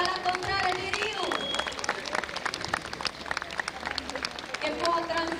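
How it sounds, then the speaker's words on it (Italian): A crowd at a village palio in Paluzza applauds a contrada, with scattered claps and cheering mixed with loud talk and a voice over a speaker system. "Facciamo un applauso quindi alla contraria di Riu"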